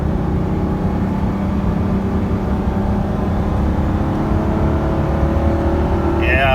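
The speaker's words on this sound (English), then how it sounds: "Oh, that 1-2 shift is a little rough." A 1997 Ford F-150 work truck with a 4.2 V6 pulls hard under acceleration, its engine note rising steadily and loud, with a rough 1-2 gear shift near the end.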